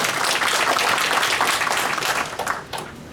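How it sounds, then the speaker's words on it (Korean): Audience at a Korean senior citizens' medical policy forum clapping for an introduced committee chair, a loud continuous wash of handclaps that thins out toward the end. "칭찬 박수 부탁드립니다"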